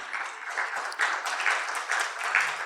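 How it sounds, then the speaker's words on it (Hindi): A Brahma Kumaris gathering claps to welcome a guest speaker, a moderate crowd applauding in uneven bursts, fairly faint and somewhat distant. "आप जोर से ताली बजाकर दीदी का वेलकम करें।"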